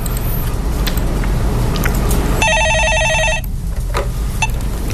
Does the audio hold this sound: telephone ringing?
yes